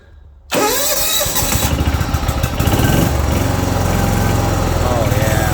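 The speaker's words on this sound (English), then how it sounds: "this is going to be yet again another cold start with the new carb" A small John Deere 240 lawn tractor engine, freshly fitted with a clean carburetor, cranks briefly from cold then catches and runs, settling into a steady, loud idle with a rough mechanical chug close by.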